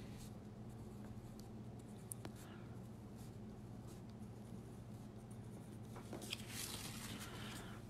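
A colored pencil scratches across wet paper during lettering and coloring, soft, quiet, uneven strokes close up, with a low steady background hum and a few brief louder scrapes near the end.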